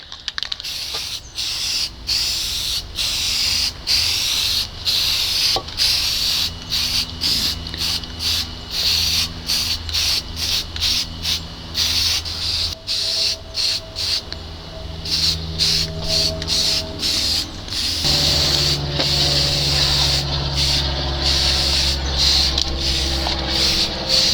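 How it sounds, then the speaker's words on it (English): Spray paint hisses steadily over fresh primer on an old 1981 20 hp Evinrude outboard motor, a near, continuous airy spray with short rhythmic breaks between passes, running alone throughout. "I like to put the paint on right on top of the primer before the primer has time to dry"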